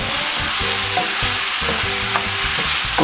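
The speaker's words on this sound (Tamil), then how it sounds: "தக்காளி போடுகின்றேன் பாருங்கள்" Tomatoes frying in a pan for a village-style chicken curry, with a steady hiss of sizzling oil and repeated scraping and clanks as a spoon stirs, close and continuous, with no voices.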